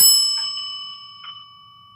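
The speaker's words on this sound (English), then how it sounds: "you'll hear a ding that sounds like this" A single bright electronic ding, a one-minute-left timer warning at a public hearing, rings out and slowly fades, with faint chime overtones lingering underneath.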